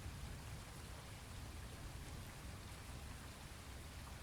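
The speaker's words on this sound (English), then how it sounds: "And the rain is just beginning to fall." Rain falls on a quiet night in a steady, soft hiss of many fine drops, an even wash of sound with no voices or other noises.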